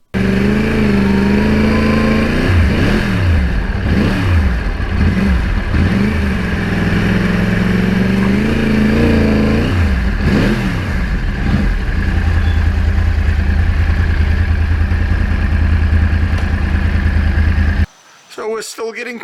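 Yamaha R1 crossplane motorcycle engine revving up and down in repeated surges, loud and close, then settling into a steady rough drone before cutting off abruptly.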